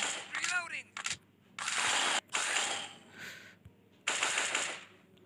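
Gunfire rings out in the zombie shooter Zombie Hunter D-Day 2, in scenario mode, as rapid bursts of shots and mechanical clatter come in separate chunks with short pauses between them.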